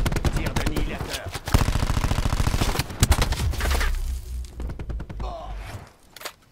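Annihilator gun fired in Black Ops 4, a loud rapid burst of heavy shots followed by a few more scattered bangs, close and punchy over game noise.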